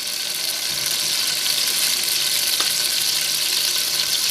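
Okra and onion frying in a pan, a steady close sizzle with a faint watery crackle running through the whole stretch, no voices.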